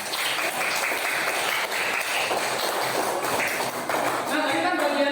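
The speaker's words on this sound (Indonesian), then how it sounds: "Tepuk tangan untuk semua." A class of schoolchildren claps together in a classroom, a dense, continuous wash of applause that holds steady for several seconds.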